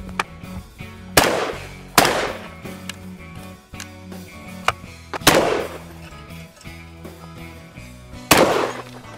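Shotgun fired outdoors, several sharp, loud blasts spaced a few seconds apart over a background of clatter and faint voices.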